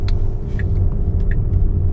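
A Tesla Model S Plaid swings through a tight U-turn, giving a low steady rolling rumble of tyres and road noise with a few faint ticks, close and unbroken.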